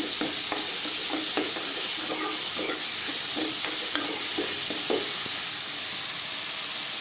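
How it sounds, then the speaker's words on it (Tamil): Ginger garlic paste and softened tomato masala stirred in a hot pan for Chettinad mutton chukka, with a constant loud sizzle and rhythmic scraping strokes of a spoon about twice a second. "இஞ்சி பூண்டு பேஸ்ட் சேர்த்துக்கலாங்க. நல்லா கொஞ்சம் கிண்டி விட்டுக்கோங்க."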